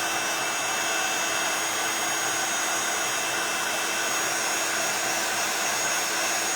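A heat tool blows steadily and loudly at close range to dry paint on a stencil, a constant whooshing fan roar with no breaks and no talk.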